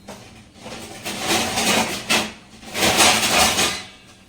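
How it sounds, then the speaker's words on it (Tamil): A lid is set onto a pan of restaurant-style chicken roast cooking over high flame, giving a couple of close, scraping, rattling bursts of metal and cookware noise with no talking. "இப்போ இதுக்கு மேலே வந்து கேப் போட்டுடலாம்"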